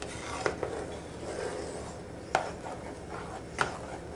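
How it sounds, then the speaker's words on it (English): Chocolate pie filling stirred in a pot, a soft steady scraping and swishing with a few sharp clicks of the utensil against the pot rim, fairly quiet. "all you have to do is just sort of watch it and keep it stirred"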